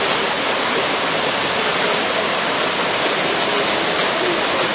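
A waterfall bursting out of the middle of a mountainside in a canyon roars in a dense, constant wash of rushing water, loud and unbroken throughout.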